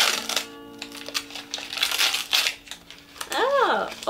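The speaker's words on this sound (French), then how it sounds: "C'est vrai que j'avais oublié que Marilyn mettait beaucoup de scotch" Tape being peeled and wrapping paper crinkled while unwrapping a heavily taped advent calendar gift, bursts of tearing and rustling close by, with short vocal exclamations over it.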